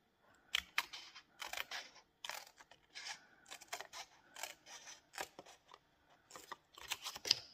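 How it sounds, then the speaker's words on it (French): Scissors snipping through card stock for a handmade card, a series of short crisp cuts in irregular bursts with brief pauses between, close and fairly quiet, with no voice. "je vais prendre mon ciseau"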